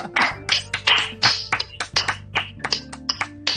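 Sharp hand claps land in a quick, slightly irregular series of about a dozen crisp hits, close and loud, with no voices over them.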